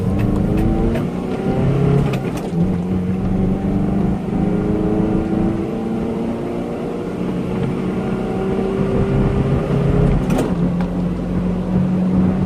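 A Mazda B2600 4x4 pickup truck with a new exhaust accelerates from a 20 km/h rolling start at a roundabout, engine revving and climbing in pitch, shifting gears with rising, sustained motor drone close by.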